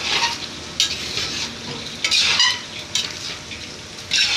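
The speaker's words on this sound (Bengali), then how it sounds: "আমাদের চিকেন কষা হচ্ছে এখন অর্ডারের" Chicken kosha stir-fried in a pot in a busy kitchen, a steady sizzle broken by repeated scraping strokes of a metal spatula against the pot, close and loud, no talking.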